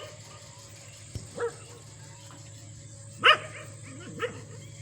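Large dogs bark outside in a Punjab village in Pakistan: a few sharp, separate barks at moderate distance over a quiet hum, with a brief click early on.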